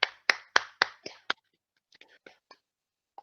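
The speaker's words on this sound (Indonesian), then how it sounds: "Tepuk tangan dulu untuk kelompok 2." Classroom applause for a student group: a short burst of several sharp clap-like bursts in quick succession, followed by quieter scattered taps after a pause.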